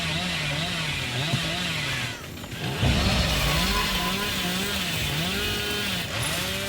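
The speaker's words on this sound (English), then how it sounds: "I wonder if the survivors are constantly hearing this freaking chainsaw as I stroll across the map at breakneck" A chainsaw revving continuously in Dead by Daylight, its loud buzzing whine wavering up and down in pitch, with a brief dip and rough burst midway amid game background noise.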